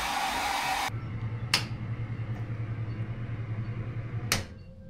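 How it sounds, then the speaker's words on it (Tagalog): A hair dryer blows loudly, then shuts off, leaving a low steady hum with two sharp knocks. "nagpapa-blower din si Pino"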